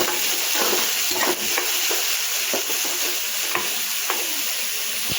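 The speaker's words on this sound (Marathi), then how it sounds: "आणि यामध्ये घालायचं आपण बारीक चिरलेला कांदा घातल्यानंतर आपण याला छान मिक्स करून घ्यायचं।" Finely chopped onion sizzles in hot fat in a pan for paneer bhurji while a spoon stirs it, giving a steady bright hiss broken by repeated scraping strokes, close and with no talking.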